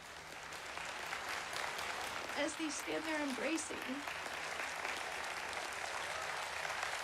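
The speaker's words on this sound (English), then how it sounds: "the audience claps in a standing ovation" Standing ovation from an audience in a church setting, with broad, steady applause throughout, while someone narrates over it.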